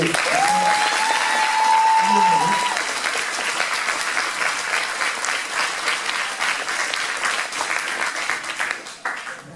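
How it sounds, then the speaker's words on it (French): Audience in a lecture hall applauding cosplayers at an anime convention cosplay parade in Dijon, steady sustained clapping from many hands for nearly ten seconds, fading at the end, with a voice briefly heard early on. "on peut les applaudir, allez"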